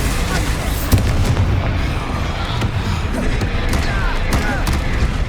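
Confringo and Bombarda explosion spells go off in the Hogwarts Legacy video game, a loud, dense stream of booming blasts and crackling impacts rolling on continuously with sharp hits.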